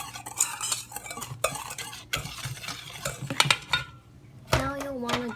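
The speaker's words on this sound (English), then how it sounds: "Now you'll want to mix your flour and your sugar really well together." Flour and sugar mixed in a bowl for crepe batter, with a utensil scraping and clinking against the bowl in quick, uneven strokes, close by, and a short voice near the end.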